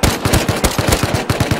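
Rapid video game automatic gunfire, a loud, dense burst of about a dozen evenly spaced shots in under two seconds, close and continuous.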